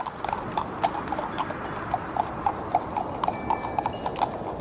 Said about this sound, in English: Go horses, run! Move those damn hooves